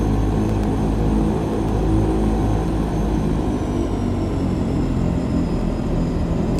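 An OV-10 Bronco twin-propeller aircraft in a VR flight game drones loud and steady on its approach to land, a constant engine and propeller roar that does not change for the whole span.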